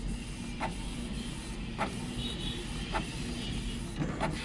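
A Canon G2010 inkjet printer printing a page: a low, steady mechanical hum with small regular clicks and creaks about once a second, quiet and close, with no talking.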